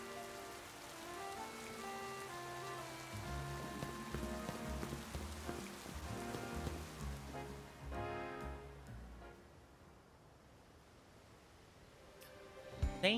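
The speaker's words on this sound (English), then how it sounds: "Oh gosh, it's raining." Rain falls steadily across a city street in Pokémon Legends: Z-A, a continuous hiss laid over game music that thins out toward the end before a few brief sharp sounds.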